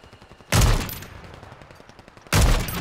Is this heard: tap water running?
no